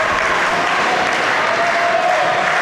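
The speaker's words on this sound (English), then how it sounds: "He's got this crowd riled up." Wrestling crowd at a live MAW tag team show cheering and applauding, a dense continuous roar of clapping and voices filling the hall at steady high loudness throughout.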